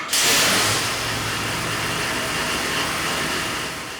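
A racing engine from a USMTS A-Mod build roars on a dyno, a loud, sustained and steady full-throttle drone that flares up right at the start, then holds close and powerful before easing slightly at the end.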